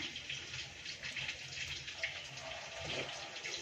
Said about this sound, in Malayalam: കുറച്ച് വെളിച്ചെണ്ണ ഒഴിച്ചു കൊടുക്കുവാണേ